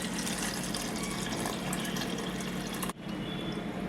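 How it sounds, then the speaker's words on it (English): Steady rushing of water poured from soaked rice into a pressure cooker pot, continuous and close, with a brief break near the end before the flow resumes. "Now pour water from the soaked rice."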